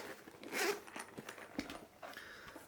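A close zipper on a Jabra Elite 85h headphone case is pulled open in a few short, raspy strokes with brief pauses between them, quiet and with no talking.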